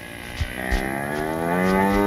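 A cow moos in a long, steady, low drone with rich harmonics, fairly close and growing louder toward the end, with no talking over it.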